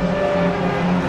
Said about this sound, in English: we've got the Minis racing around Donington at the moment